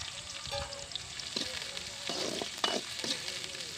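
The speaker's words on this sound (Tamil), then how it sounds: "நறுக்கி வச்ச வெங்காயத்தை போட்டுக்கலாம்." Steady sizzling and crackling of chopped onions frying in hot oil in a kadai, with occasional stirring clinks, close and moderately loud, no talking.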